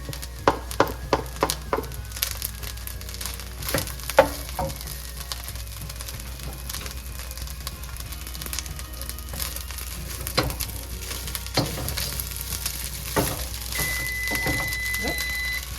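Sirloin beef, vegetables and fried rice sauté together in a pan, giving a faint sizzle broken by scattered clicks and scrapes of a utensil against the pan.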